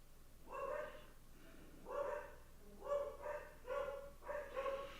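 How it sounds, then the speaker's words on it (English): Several dogs barking in repeated loud bursts inside a garage during a live show, with deer outside; the barks come in clusters of two or three, fairly close and alone without talk. "My dogs are just going crazy."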